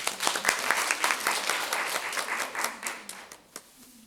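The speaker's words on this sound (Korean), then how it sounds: "큰 박수로 환영해 주시기 바랍니다." An audience at an academic Buddhist-ritual culture conference claps to welcome a presenter, a burst of dense applause that gradually thins out and fades over a few seconds.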